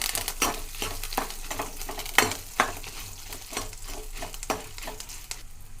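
Garlic frying in a pan for a horse gram and Malabar spinach curry, with a low crackling sizzle broken by repeated scraping stirs and a few sharper clinks, no voices.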